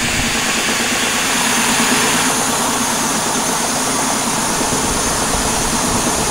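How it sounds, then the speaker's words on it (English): A metal rotating flow turbine spins down, making a loud, steady broadband whir with an airy rush that holds constant from start to finish, and no voices. "it's just spinning down, so it does spin pretty easy"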